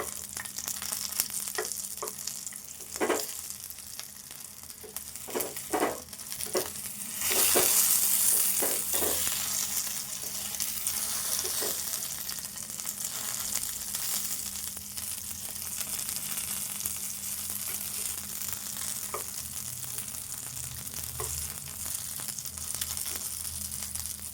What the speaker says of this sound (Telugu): ఇట్లా దోరగా వేగాలి ఇప్పుడు ఇట్లా వేగినాయి కదా ఇట్లా వేగాలి